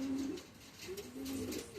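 Spanish pouter pigeons coo in low, rolling, throaty notes that repeat in slow waves over steady background noise, moderately close.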